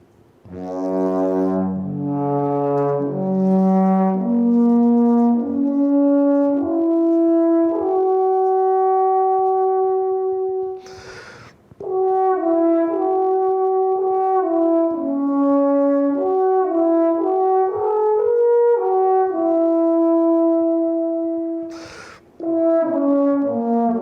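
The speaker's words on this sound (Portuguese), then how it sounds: "Esse é o som da trompa alpina" Alphorn played alone in a long, mellow brass melody: sustained notes rising and falling in stepwise phrases, with two short breath bursts between phrases, close and clear with no talking.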